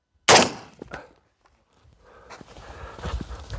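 A single loud, sharp gunshot at a Level 3 PE armor plate test, close and abrupt, followed by faint clicks, shuffling and low outdoor rumble.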